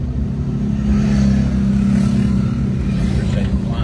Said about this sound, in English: now we have some four-wheelers coming down in here